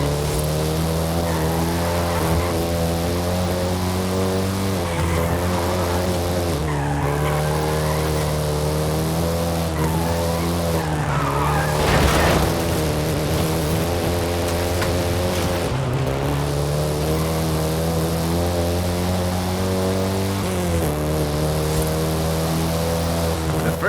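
Volkswagen Golf GTI in Forza Horizon 5 driving with a steady loud engine drone that shifts pitch through gear changes, with a brief noisy burst midway like tyres skidding.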